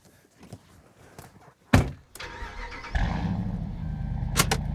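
A couple of heavy door thunks, then a Dodge Ram HEMI V8 pickup with Flowmaster dual exhaust fires up and settles into a deep, steady exhaust rumble nearby.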